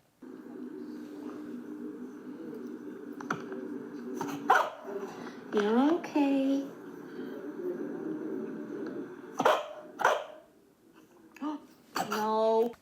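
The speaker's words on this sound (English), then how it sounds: "The dog has continued to bark" A puppy barks and yips in short, sharp bursts with whimpering squeals between them, close and loud over a low background hum, while a person speaks briefly in a calm, reassuring tone.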